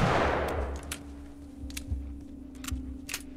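Gunfire in The Last of Us starts on a loud booming shot. Several sharper, lighter cracks follow at irregular intervals, close and with no talking.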